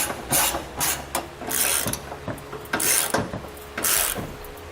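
A ratchet with a 19mm socket tightens trailer hitch hardware on a 2013 Acura RDX, giving several close, crisp bursts of rapid clicking separated by short pauses.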